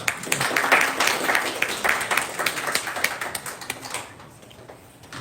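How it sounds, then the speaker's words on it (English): An audience at a hackathon talk gives a warm round of applause. Dense, steady clapping carries on for several seconds, then thins and fades toward the end. "a warm round of applause for Lovable"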